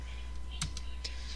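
Computer keyboard keys pressed, including delete, during photo editing: a few sharp, light clicks spaced through the moment over steady low room hum, fairly quiet and close.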